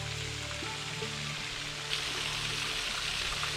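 A small waterfall on the Natchez Trace Parkway flows as a soft, distant, continuous rush of water, faint and steady beneath a low background hum.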